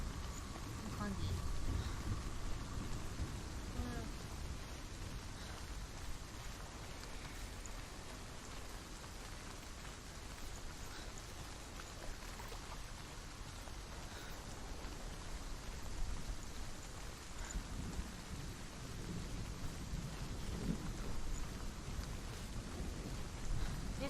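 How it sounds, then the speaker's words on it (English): Rain and rolling thunder from the video game Hellblade: Senua's Sacrifice, a steady, soft wash of rainfall with low rumbles throughout, faint and even in level. "I just heard thunder, and I'm just like, wait, what? Thundering? I was just like, no, wait, that's in game."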